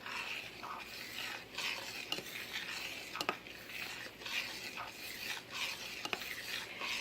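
Fresh strawberry jam with sugar boiling in a pot while a spoon stirs continually: rhythmic rasping scrapes against the pan repeat over a soft bubbling hiss, close and steady, with no voice.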